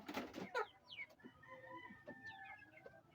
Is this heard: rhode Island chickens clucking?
yes